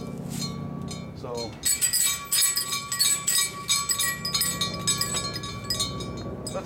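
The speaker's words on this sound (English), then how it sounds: "These are little chime bells, and the clapper is a spring." Small homemade chime bells cut from gas cylinders, struck by spring clappers, ring in bright overlapping metallic clinks with sustained tones, fairly close and alone.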